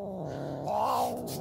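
An angry cat growls low and steadily, then rises into a drawn-out caterwauling yowl near the middle before sinking back to a growl, close and clear with no talking.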